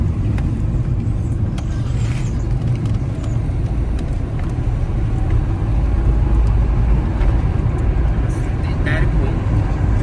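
A German-made car driving along on the way to the Bhimashankar temple, with a steady loud engine and road rumble throughout and people talking inside the cabin over it.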